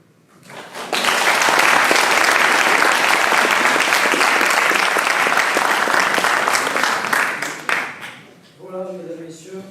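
An audience at a law-night oratory jousting event breaks into loud, sustained applause after a speech, a dense roar of clapping for several seconds that fades out before a voice speaks.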